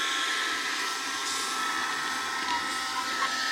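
A handheld window vacuum running continuously, a steady close whine and airy roar without pauses.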